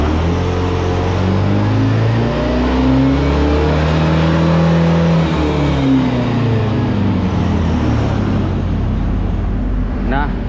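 A 2023 Honda Scoopy Prestige scooter with a remapped ECU revs up close, its engine note climbing and falling in sweeping throttle blips, loud and sustained, with a voice briefly heard over it.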